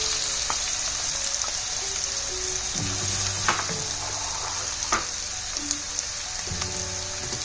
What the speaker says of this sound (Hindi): जीरा क्रैकल हो गया, थोड़े से प्याज, इसको हिला देंगे अच्छे से।